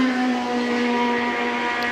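A 1973 Formula 1 race car at the British Grand Prix brakes into Stowe corner, its engine a loud, steady, high-pitched howl throughout the short moment.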